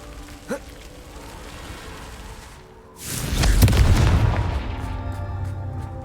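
The Confringo spell in Hogwarts Legacy bursts into a loud, rumbling explosion with a crackling roar that swells and slowly fades, preceded by a faint short sound and quiet game ambience.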